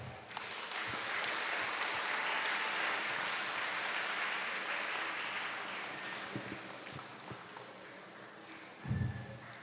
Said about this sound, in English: Once again, let's give them a big round of applause.